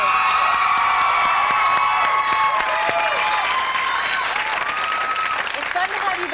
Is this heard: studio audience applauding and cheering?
yes